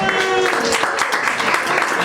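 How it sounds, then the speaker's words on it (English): Audience applause at a community Make Talk Play evening at Owl & Raven, a brisk burst of clapping from a small crowd with voices and a cheer mixed in. "Give her a big round of applause"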